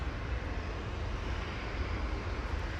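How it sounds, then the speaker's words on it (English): Boeing 737-800 jet departing Manchester Airport for Alicante, a broad, steady distant engine roar with no distinct changes across the short stretch. "Dr. TC heading off to Alicante now to the Costa Blanca flight 881, 737-800"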